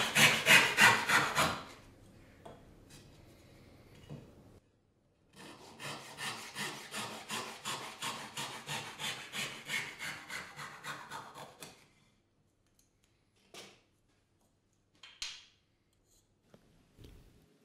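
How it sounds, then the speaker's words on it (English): A hand saw cuts a wooden workpiece for a Japanese corner splice joint, with a steady run of rhythmic rasping strokes close by, then brief pauses and a few isolated knocks at the end. "Now cut the workpiece to size and assemble the joint."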